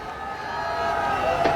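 Dense, steady roar of a big Mumbai crowd celebrating India's 2011 Cricket World Cup victory, voices blending into a continuous din that swells slightly toward the end.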